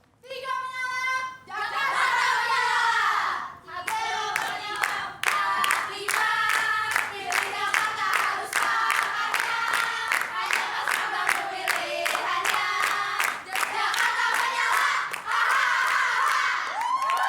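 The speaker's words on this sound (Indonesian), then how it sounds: "Saya ingin mendengar dulu yel-yel dari pasangan nomor urut 3." Supporters of candidate pair number 3 at a Jakarta gubernatorial debate chant yel-yel cheers in loud, rhythmic unison with steady clapping, a large crowd filling the hall.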